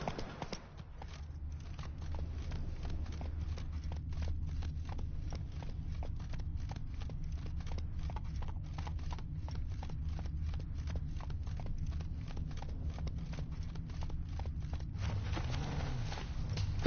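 Hooves clop steadily at a walking pace in The Witcher 3, an even, continuous rhythm over a low background hum, fairly close and moderately loud.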